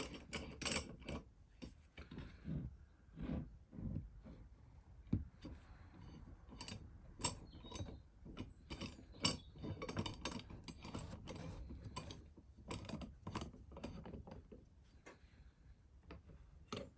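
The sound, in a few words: clamps being tightened on a guitar neck template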